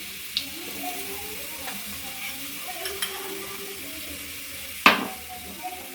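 Half a spoon of asafoetida drops into hot oil with browned garlic while tempering a leafy greens dish, giving a soft steady sizzle with light stirring clinks and one sharp utensil knock near the end.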